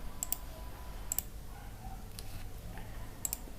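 Computer mouse clicking during spreadsheet work: a few faint, sharp clicks in pairs spaced across a quiet room background.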